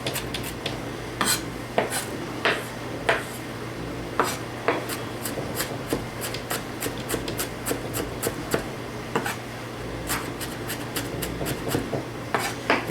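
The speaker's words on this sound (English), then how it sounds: "And then I'll give it some final chops." Knife chopping finely minced onion on a board, a string of sharp, quick taps in irregular bursts, close and fairly quiet, with brief pauses between runs of cuts.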